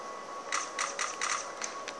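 Keys tapped on a computer keyboard, ending with the Enter key: a quick run of about eight crisp, close clicks over a faint steady hum.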